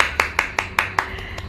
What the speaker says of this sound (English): the applause has to keep coming